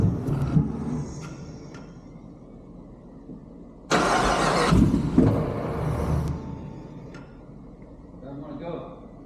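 A car engine cranks and catches on its first start-up, bursting loudly into a roar as the throttle is given, then settling back toward a rough idle. Voices are in the background.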